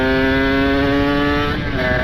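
A motorcycle with a ported engine and free-flowing exhaust holds a smooth, steady idle-to-mid rev, a clean buzzing drone close by and loud throughout, with a slight dip near the end.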